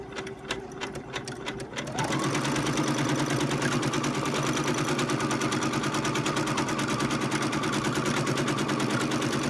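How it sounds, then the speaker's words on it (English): A sewing machine quilting a row of stitching along a heart template on solid fabric starts up after a quiet moment and runs at a fast, even, rattling pace close by to the end. "I'm going to stitch this entire row using this heart template"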